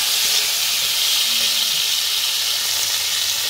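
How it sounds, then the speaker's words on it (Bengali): Pointed gourd stir-fried with tomato and fried garlic in a pan, giving a loud, continuous close-up sizzle with a steady hiss and no talking. "এবার আমি পটলটা টমেটো দিয়ে একটু মোটামুটি নেড়ে চেড়ে একটু ভালো করে নেড়ে চেড়ে নেবো পটলটা।"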